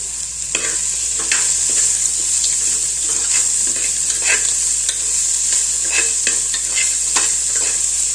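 Cashews fry in a pot of hot oil, giving a steady bright sizzle with repeated scraping stirs, loud and close, with no voices.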